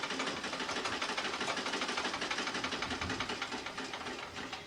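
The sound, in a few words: sewing machine running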